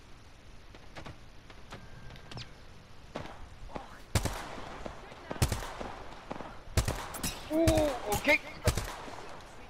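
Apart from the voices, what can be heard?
gunfire in the video game Apex Legends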